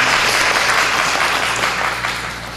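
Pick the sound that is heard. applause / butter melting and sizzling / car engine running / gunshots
applause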